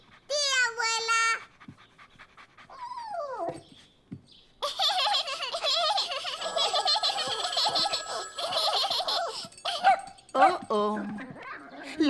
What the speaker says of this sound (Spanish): Abuela, mira, el perro está saltando.